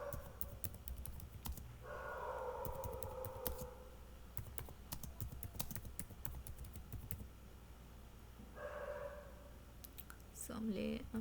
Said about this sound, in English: I am typing whatever he has